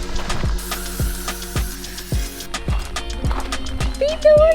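Horses at a stable in Kelowna, British Columbia, their hooves striking in a steady clip-clop rhythm, close by and fairly loud, with a brief whinny rising near the end and background voices of people talking.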